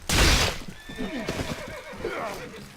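A horse neighs loudly in the video game Mount and Blade: Viking Conquest, one long whinny over hoofbeats, with a voice talking underneath.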